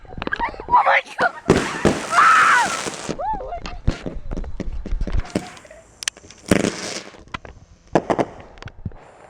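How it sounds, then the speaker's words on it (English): Fireworks at a 2016 Florida outing misfire, giving a sharp whoosh and several close pops and bangs, while people shout and talk excitedly throughout. "Another firework fail. Like the second one exploded."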